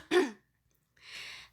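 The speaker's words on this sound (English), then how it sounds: "Sorry if you're hearing me clearing my throat." One short, sharp throat clearing close to the microphone, followed after a brief silence by a softer breathy exhale.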